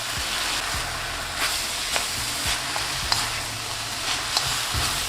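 Chicken stir fry vegetables sizzle loudly in a hot pan as sauce is mixed in, a steady close hiss broken by occasional scraping stirs and small crackles, with no talking.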